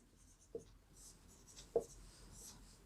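Hand writing out a trigonometry solution, faint pen scratches on paper with two brief sharper taps in a quiet room.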